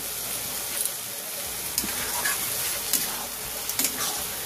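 Lote fish stir-fries dry in a pan with no water added, a loud continuous sizzle and hiss close by, broken by brisk spatula scrapes and stirring clatters, with no voices.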